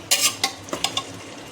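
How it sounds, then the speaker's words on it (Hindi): A few quick scrapes and clinks of a spoon stirring masala in a pan over a soft sizzle, about five strokes in a short burst. "थोड़ा सा इसको भून लेंगे"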